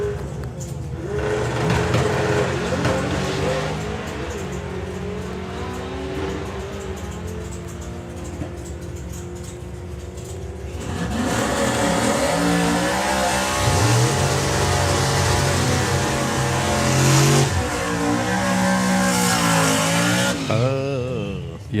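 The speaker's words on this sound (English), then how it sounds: "Wayne needs to nudge it in a bit further before bringing the RPM up" Drag racing car engine at the FIA/FIM Euro Finals qualifying session, loud sustained rumble that builds into harder revving partway through, heard from trackside.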